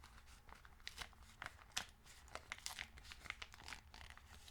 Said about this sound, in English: I'm going to open this up this way because I'm tired of ripping bags the other way